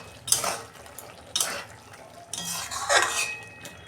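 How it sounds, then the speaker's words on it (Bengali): A metal lid is handled on a cooking pot of matar dal with ridge gourd, giving three clattering metallic knocks and scrapes spaced about a second apart, close by with no talking. "আমি আর 5 মিনিট গ্যাসের ফ্লেমটা আস্তে করে ঢাকা দিয়ে দেবো।"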